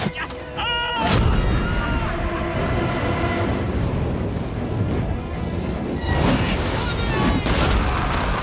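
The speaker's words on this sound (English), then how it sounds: "Catapultae could be used with incendiary ammunition. This is the big one. This is it. The flaming incendiary dart." Catapults hurl flaming incendiary darts on a Total War: Rome II battlefield, with a sharp launch burst followed by sustained roaring, crackling battle noise and further heavy impacts, loud and dense throughout.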